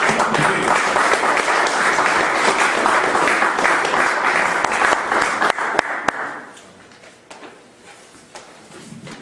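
Sustained audience applause at a lecture event on Islamic history fills about six seconds with steady dense clapping, then drops away to a quieter room with a few scattered claps.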